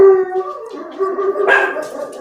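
Dogs howling with a long, wavering tonal cry that rises and sags, close and loud, a second voice joining near the end with no talking.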